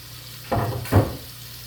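Beef stir fry with pea pods and carrots sizzles in a pan in two short bursts as the vegetables are added, fairly close, with a low steady hiss between them.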